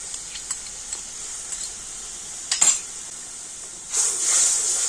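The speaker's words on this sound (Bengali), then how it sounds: "তো সমস্ত কিছু মশলা একটুখানি কষে নেব" Spices with half a spoon of ginger paste fry in a pan, a soft steady sizzle with a few light taps of a spoon and a brighter burst of hissing toward the end.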